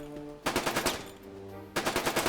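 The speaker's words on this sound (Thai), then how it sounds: "มีเสียงยิงปืนด้วยนี่หว่า" Two rapid bursts of automatic gunfire in the military-camp management game One Military Camp, each a quick series of sharp shots, separated by a short pause, with a faint tonal hum underneath.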